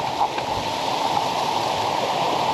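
Sangkwelan Falls in Sibalom, Antique pours in a steady broadband rush of falling water, continuous and fairly close, with no voices.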